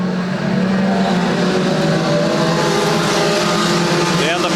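Junior sedan race cars on the grid at the start of a race, a loud dense engine drone with steady layered tones and a rising whine near the end, with race commentary running over it.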